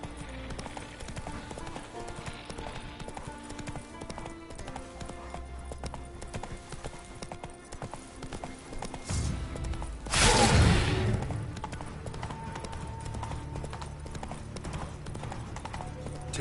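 Hooves of Roach, the horse in The Witcher 3, clip-clop steadily at a gallop through the whole stretch, with a louder burst of noise near the middle and faint other game sounds underneath.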